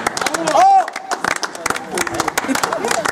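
An audience claps for a team at a local race stage event, a dense patter of hands mixed with crowd chatter and a voice calling out over it.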